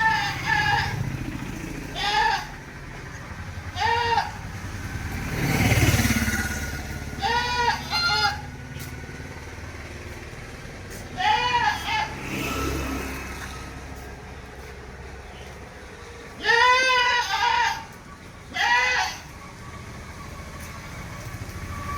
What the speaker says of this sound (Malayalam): ഒരമ്മയാടും അതിൻ്റെ 2 മുട്ടൻകുട്ടികളും